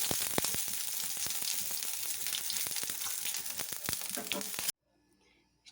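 Fennel seeds, cumin and black peppercorns frying in a pan give a loud, steady sizzle with crackles and pops for several seconds before the sound abruptly cuts out.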